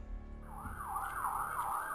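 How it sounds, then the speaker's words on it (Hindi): An ambulance siren wails in a rising and falling sweep that starts partway in and repeats, heard moderately close over a low street rumble. "प्राची ने आज तक जब भी सड़क पर एम्बुलेंस सायरन बजाते जाते देखी थी"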